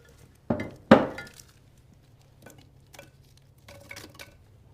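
Candies pour into a glass vase in two loud rattling bursts, followed by fainter scattered clinks and small trickles in a quiet room.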